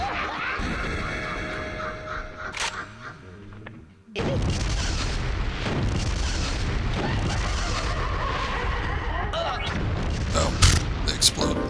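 Explosions in the game Killer7: after a quieter stretch with talking, a sudden heavy boom erupts and sustained blasts and crashing rumble follow continuously, with voices heard faintly among them.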